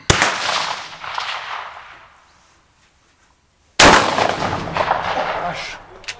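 Two powerful, booming blasts come from a Taurus ST12 firing 12.70 cartridges, with a hot barrel. Each close report is followed by a long decaying echo, and there is a short silent pause between the shots.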